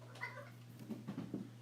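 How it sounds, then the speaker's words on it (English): A cat meows several times in short, wavering cries, fairly faint against a steady low hum behind a math lesson. "You can hear my cat in the background"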